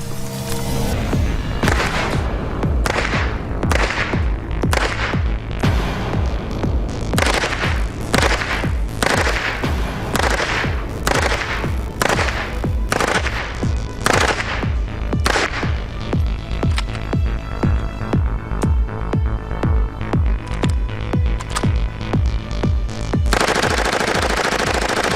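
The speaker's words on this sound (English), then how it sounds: "I'm going to shoot a few rounds semi, and then I'm going to shoot a few bursts full" A SWAT team weapon fires loud, close gunshots, first as spaced single semi-automatic rounds and then as rapid full-automatic bursts, sharp and echoing. No voices are heard.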